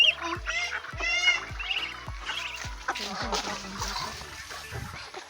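Chickens and ducks feeding on a farm give honks, clucks and quacks near the microphone, with sharp pecking knocks repeating in a steady rhythm beneath them.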